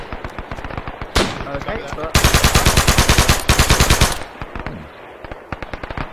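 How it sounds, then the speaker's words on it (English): Rapid bursts of gunfire from a pistol in the military shooter game ArmA 3, loud sharp cracks in fast repeated volleys with short gaps between strings, and a brief spoken word near the start. "I'll actually throw in the pistol as well."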